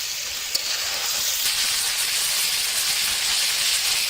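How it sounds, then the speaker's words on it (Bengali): Country chicken meat fries in hot oil with cinnamon, cardamom and bay leaf at a village night cookout, producing a loud, steady, close sizzling hiss that runs unbroken throughout, with no speech. "মাংস ভাজা চলছে"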